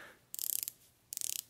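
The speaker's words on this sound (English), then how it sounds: "Oh man, really nice bezel action." A Timex watch bezel turned by hand gives two quick bursts of fine ratcheting clicks, close and quiet, each a rapid run of about eight to ten crisp detents.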